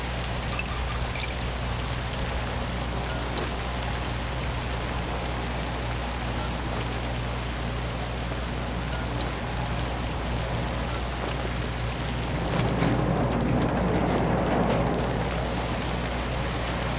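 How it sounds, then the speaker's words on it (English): Continuous broadband hiss of rain falling in the zombie game ZombiU over a low steady hum, swelling louder and heavier toward the end. "Rain is a good sign."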